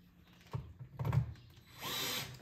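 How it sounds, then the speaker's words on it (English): A power drill drives two screws into a wall to mount a toilet paper dispenser, giving short whirring bursts and then a longer steady run, close by with no speech. "So we're gonna go ahead and put those 2 screws in"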